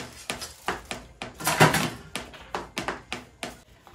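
Large pots and dishes being washed in a home kitchen during party food preparation, with a series of clattering knocks and scrapes of cookware, close and fairly loud, one heavier clank near the middle.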